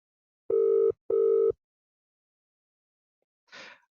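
A phone line gives two evenly spaced electronic ringback tones at moderate volume while a call is placed to a mobile phone, followed by a brief soft rustle.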